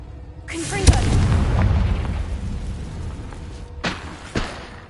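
In the Hogwarts Legacy video game, a Confringo blasting spell goes off as a deep, close boom, followed by a few more thuds and bursts over the next few seconds.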